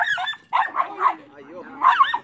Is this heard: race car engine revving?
no